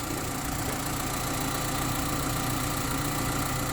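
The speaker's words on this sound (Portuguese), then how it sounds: "Motor sereninho." A car engine idles steadily after an ignition coil repair, running as a smooth, even hum with no tremor, close to the listener and alone without any voices.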